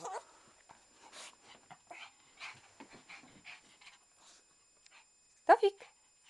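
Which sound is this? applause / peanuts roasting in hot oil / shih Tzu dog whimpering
shih Tzu dog whimpering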